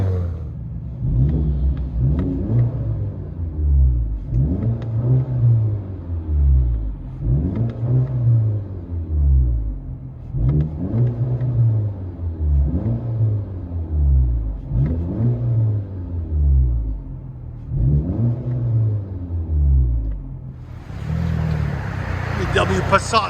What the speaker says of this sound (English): So it's a turbo VW Passat. I'll let you guys hear it on the inside.